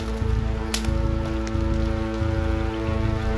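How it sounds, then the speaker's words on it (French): Rain falling during a fishing trip in Finland, a continuous soft patter on surfaces alongside a low steady hum, with a single sharp tap near the start. "la pluie, elle est en train de se calmer quand même."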